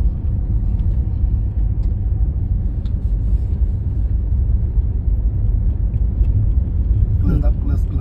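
A car driven during a driving lesson gives a steady low engine rumble and road noise throughout, with voices talking over it.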